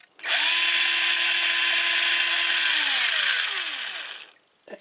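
A cordless drill powered by laptop lithium batteries spins up loudly and runs steadily for a few seconds at close range, then winds down, followed by a brief click.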